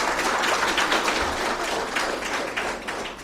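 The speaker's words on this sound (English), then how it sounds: "Can we have a big round of applause for all the panelists" Audience applause for a panel of speakers at a conference, steady broadband clapping sustained for a few seconds without letting up.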